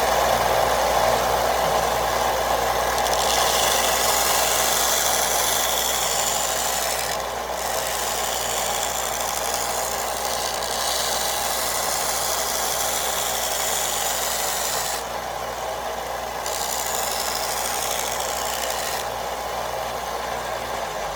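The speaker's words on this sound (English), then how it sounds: "I'll grab the drill press with a drum sander and I'll get this curve" A drum sander mounted in a drill press sands small wooden trunk pieces, making a continuous rasping, rubbing whine with a motor hum beneath it. The friction noise breaks off briefly a few times as the piece is lifted and put back.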